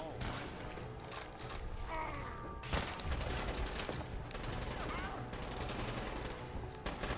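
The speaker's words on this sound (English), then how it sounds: "Where's all the shooting going on from?" Gunfire rattles through a firefight in Fallout 4, with rapid volleys and single shots over a constant loud game soundscape, and a player talking now and then.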